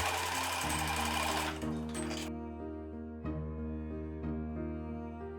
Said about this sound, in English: And sew, going slowly over all the layers.